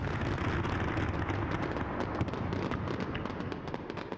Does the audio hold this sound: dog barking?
no